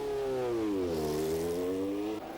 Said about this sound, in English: Nannini was 4th on the grid in the Benetton, using a new Ford development engine.